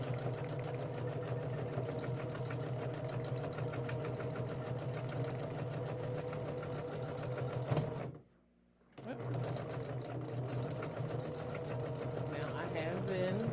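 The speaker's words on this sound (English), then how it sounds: "Now I have been quilting for a good minute on this machine" Domestic sewing machine quilting with a Janome walking foot, a steady close mechanical hum and rapid needle chatter that stops for about a second, then resumes.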